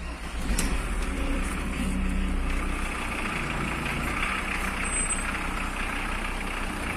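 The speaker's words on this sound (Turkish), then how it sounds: "Tabi rölantide biraz haliyle çalışacak." Volkswagen Transporter T4 engine idling just after an oil change, a steady low rumble with a constant hum, moderately near and unchanging for the whole stretch.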